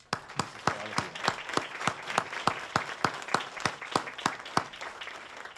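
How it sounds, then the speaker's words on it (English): An award ceremony audience applauds in steady, even claps that fill the room close up and hold at a constant level throughout. "You all deserve a huge round of applause."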